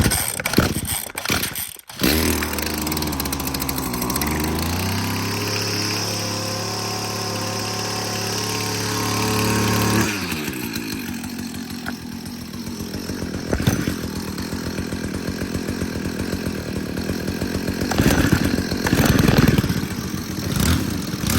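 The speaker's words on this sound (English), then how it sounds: "I'll crank up the KM56 for you guys real quick and show you the difference in sound." A Stihl KM56 two-stroke engine cranks with a few pulls, catches and idles, then revs high and buzzes loudly for several seconds before settling into a rough, close idle with occasional throttle blips.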